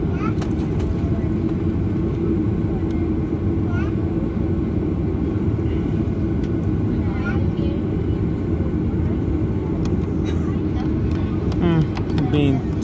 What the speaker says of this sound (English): I've been taxiing here for ages by now.